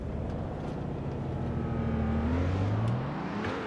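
A car's engine revs steadily while drifting in the racing game Assetto Corsa, its droning note rising in pitch near the end, loud and continuous with no talking.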